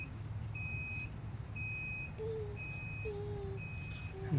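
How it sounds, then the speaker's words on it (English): Solar power station overload protection beeping in a regular pattern of four evenly spaced electronic tones, each about half a second long, over low background hum with faint squeaky sounds in between. "Beep, beep, beep"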